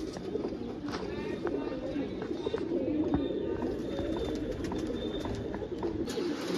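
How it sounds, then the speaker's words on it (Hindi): A spotless white pigeon, a female, held in the hand coos softly in low murmuring bursts against a steady hum, with someone talking nearby. "मेरे हाथ में ये जो बेदाग कबूतर है"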